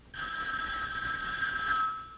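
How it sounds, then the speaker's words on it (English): A telephone bell rings steadily in a home scene from a vintage sitcom, one continuous bright metallic ring of about two seconds, clear and near, with no talking over it. "But I believe this is the telephone."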